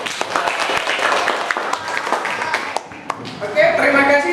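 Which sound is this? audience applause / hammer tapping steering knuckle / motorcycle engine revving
audience applause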